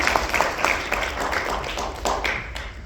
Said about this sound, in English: we're going to give a round of applause for Beres.